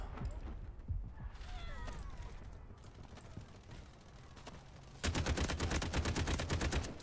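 Gunfire in the video game Delta Force Hawk Ops, with scattered shots early on, then a dense, loud burst of rapid automatic fire over the final two seconds, under game sounds.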